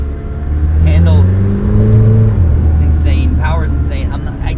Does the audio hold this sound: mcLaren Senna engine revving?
yes